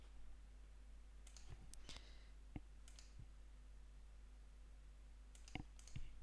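A computer mouse clicking while drawing curves in Rhino3d, several light, close clicks scattered irregularly over a steady low hum.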